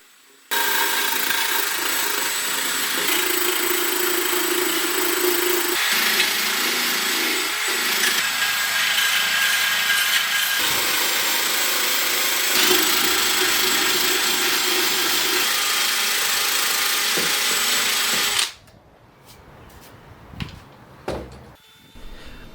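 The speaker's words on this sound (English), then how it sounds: "I used my drill's wire brush to clean the dirt" A drill fitted with a wire brush scrubs dirt from a hand-carved walnut bowl, giving a steady, loud abrasive whirring that runs without pause for about eighteen seconds before cutting off, followed by a few faint knocks.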